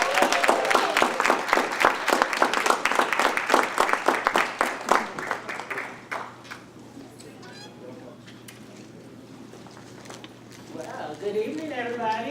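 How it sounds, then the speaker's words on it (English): An audience applauds and cheers for a keynote speaker at a youth summit, dense loud clapping that fades out after about six seconds, then a voice speaks over the quieter room. "let's give ourselves a nice round of applause"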